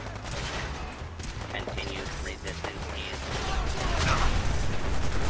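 Dense, continuous gunfire from Fallout 4 as allied Minutemen fighters trade shots in a crowded battle, with overlapping volleys and bursts that stay loud throughout and swell toward the end, alongside other game noise.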